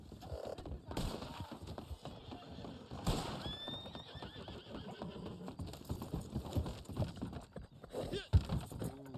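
Horse sounds from the Western video game Red Dead Online: a whinny and neigh, with scattered clip-clop hoofbeats, amid busy game noise and background sound.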